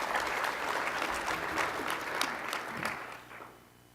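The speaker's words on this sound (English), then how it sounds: "give yourself a round of applause for joining us" Audience at a city State of the City event claps in a full, dense round of applause that holds steady for a few seconds with a few sharper claps standing out, then tapers off near the end.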